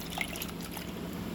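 Mushroom pieces being washed in turmeric water, with soft close liquid sloshing and a few drips throughout, no voices.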